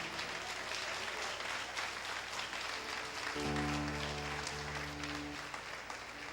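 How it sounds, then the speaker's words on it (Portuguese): A church congregation applauds during a Baptist morning service, a moderate spread of clapping that carries on throughout while a sustained musical tone joins partway through. "Pode aplaudir a Jesus esta manhã."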